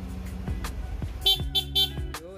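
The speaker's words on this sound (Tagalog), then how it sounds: "stock horn" Stock horn of a Yamaha NMAX V1 scooter sounding in several short honks, close and loud, with engine or electrical hum underneath and no talking.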